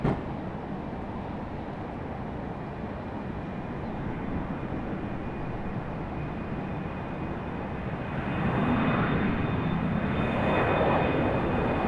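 A jet airliner taking off from Raleigh-Durham airport and rotating early, heard as a steady broadband engine roar that swells louder near the end, with a faint high whine on top.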